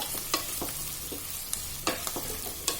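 Potatoes and curry leaves sizzle in a pan as a Kerala chicken stew is cooked. A soft, continuous frying hiss is broken by several sharp stirring clicks and scrapes, all quiet and close.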